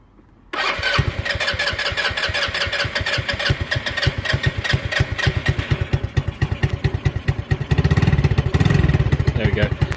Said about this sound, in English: It likes a bit of throttle.